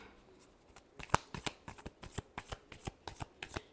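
Tarot cards shuffled by hand in a final shuffle, a close, rapid run of crisp papery riffles and slaps in an irregular rhythm, with no talk.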